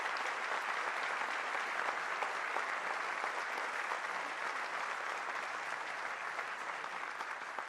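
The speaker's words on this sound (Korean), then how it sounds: "다시 한번 큰 박수를 부탁드립니다." Audience applause at a Korean National Police Day ceremony: a steady, even wash of clapping from a large crowd, sustained throughout at moderate distance with no talk over it.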